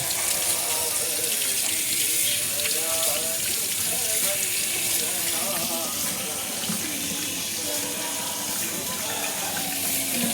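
Tap water running steadily into a sink for hand washing in a home kitchen, a constant moderate hiss and splash throughout, with faint voices in the background.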